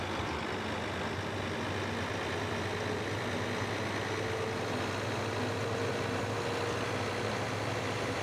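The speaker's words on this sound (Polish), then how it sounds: "Ciągnik z przyczepą." A tractor pulling a trailer in Farming Simulator 17 drones with a steady, low engine rumble and broadband mechanical noise that holds level and continuous throughout, with no talk over it.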